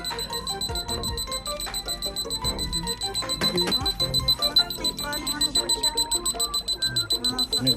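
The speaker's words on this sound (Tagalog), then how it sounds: "Nag-alarm kasi" An alarm rings steadily with a high, repeating electronic tone that runs the whole time beneath a child and an adult talking nearby.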